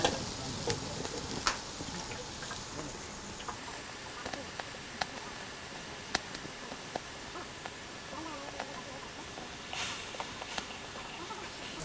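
Fresh crab curry stir-fried in a pan in a tribal kitchen, a steady sizzle punctuated by sharp clacks and scrapes of a ladle against the pan, continuing throughout.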